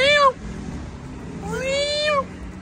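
A black cat meows twice, a short cry followed after a pause by a longer drawn-out one, loud and close in an indoor room.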